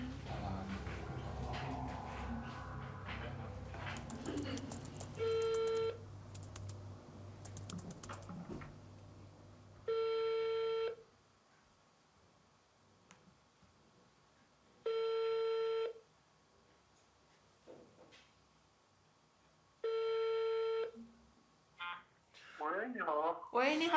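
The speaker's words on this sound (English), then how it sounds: "A few days later, we try to reach him by phone." An outgoing telephone call rings repeatedly, with four evenly spaced long ring tones about five seconds apart after a stretch of keyboard tapping and dialing, ending in a burst of line noise as the call connects.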